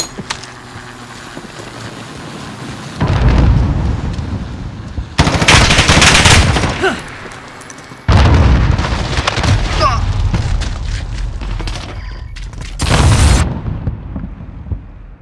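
Cruise missile strike and gunfire in Call of Duty: Modern Warfare during a night team deathmatch at Hackney Yard: loud booming blasts in several bursts, rattling automatic fire between them, with brief announcer-style speech.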